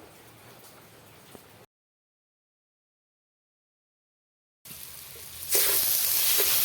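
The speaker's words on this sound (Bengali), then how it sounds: "রসুনটা মোটামুটি ভাজা হয়ে গেছে।" Garlic paste frying in a pan sizzles softly, then cuts out completely for a few seconds before returning as a much louder, hissing fry.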